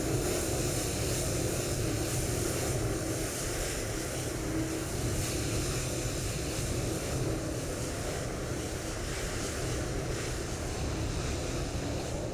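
A Fenix A321 airliner in Microsoft Flight Simulator 2024 rumbles with steady broadband engine and wind roar near LaGuardia, the dense noise holding constant throughout without a break.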